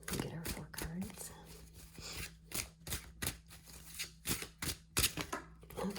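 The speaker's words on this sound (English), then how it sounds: "Let's start shuffling." A tarot deck being shuffled by hand, with repeated crisp riffling and slapping card bursts in an uneven rhythm, close and fairly quiet over a low steady hum.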